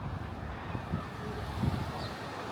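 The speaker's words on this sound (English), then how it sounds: "Yeah, it's getting very windy." Wind blowing across a lake at Paultons Park theme park, a steady rushing roar buffeting the microphone, with faint lapping water underneath.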